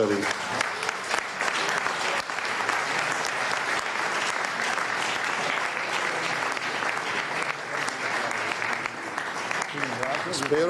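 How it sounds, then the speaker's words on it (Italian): An audience applauds a surprised award recipient, a veteran journalist, at a ceremony, producing a sustained, even roar of many hands that lasts about ten seconds and sounds moderately distant. "Un applauso"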